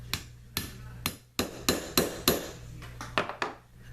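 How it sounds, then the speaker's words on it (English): Hammer blows setting six rivets along the edge of a leather axe sheath, a run of about ten sharp, close strikes, some in quick pairs, over a steady low hum. "I will be setting 6 rivets along the edge of this sheath."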